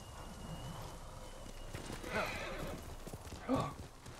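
Horse neighing and clip-clopping hooves in the video game Ghost of Tsushima, with a couple of brief whinnies rising over steady background game ambience.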